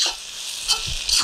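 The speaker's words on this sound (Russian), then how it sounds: "И быстро перемешиваем." Shrimp pasta is stirred quickly in a hot frying pan: a few brief scraping swishes over a soft sizzle, near and moderately loud, no talking.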